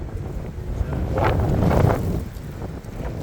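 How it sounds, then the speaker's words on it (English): Outdoors among beehives, a gust of wind rushes and buffets the microphone, swelling in the middle and easing off, with a voice faintly underneath. "here comes the wind"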